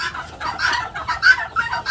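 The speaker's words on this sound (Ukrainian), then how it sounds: "вереск такий, тому що я зняла насідок" Broody hens squawk and cluck in a henhouse after being lifted off their eggs, a busy overlapping chorus of bird calls, fairly close and steady with no talking.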